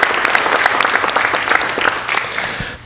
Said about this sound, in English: How about a round of applause for our National Merit semifinalist honorees?